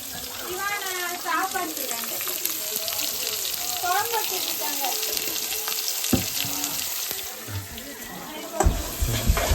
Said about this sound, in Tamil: வெங்காயத்தங்கள்லாம் போட்டு நல்லா வதக்கிட்டோம்